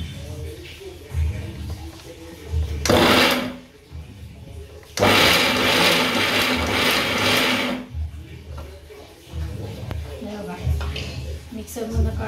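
A kitchen mixer grinder whirs in two short bursts while grinding leftover chapatis, loud and close, with quieter kitchen sounds between the bursts.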